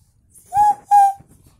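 Two short, clear whistle blasts in quick succession, steady-pitched and fairly loud, with near silence around them.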